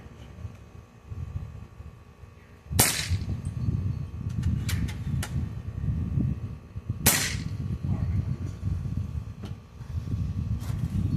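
Two sharp, loud shots spaced several seconds apart from a Northtac Qlin 7.62 bullpup PCP air rifle, 28-inch barrel, 500 cc bottle at 4500 psi, each a hard crack over steady outdoor background noise, no voices.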